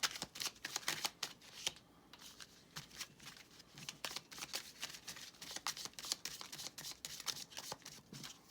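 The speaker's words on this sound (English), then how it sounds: "let's do a little shuffle, see if we get a signifier card for the center to pop out" A deck of cards is shuffled by hand during a card reading: continuous close riffling and flicking with rapid papery snaps, alone and fairly quiet throughout.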